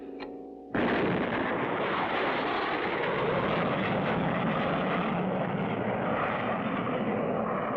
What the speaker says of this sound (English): Our first successful attempt to really get a rocket off the ground.